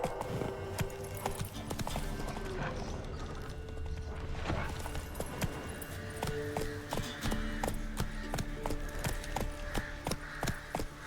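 Rapid hoofbeats of a horse galloping in The Witcher 3, a steady drumming clip-clop with creaking tack and rustling movement, close and continuous throughout with no talking.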